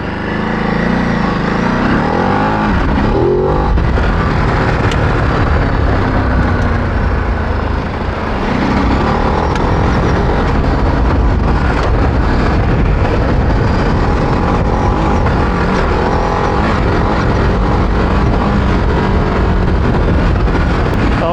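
A 2024 Ducati Desert X adventure motorcycle rides on loose gravel, its engine droning loud and continuous under heavy wind rush, with some rumbling variation as the bike works over rough ground.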